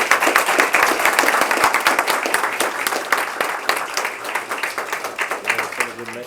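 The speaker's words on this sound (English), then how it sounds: "So round of applause for them." Lively applause from an audience honouring competition teams at a university scholarship event, many hands clapping close and loud, slowly fading toward the end, with a faint voice near the finish.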